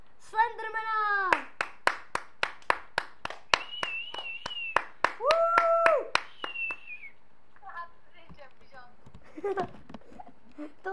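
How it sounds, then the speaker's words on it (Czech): A run of single sharp claps at a slow, regular pace, loud and close, alternating with children's voices that have a sung, melodic quality, followed by more chatter. "takže prosím potlesk pro"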